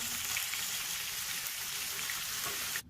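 Onions sizzle in hot oil in a pan, a steady close crackling hiss that stops abruptly at the end.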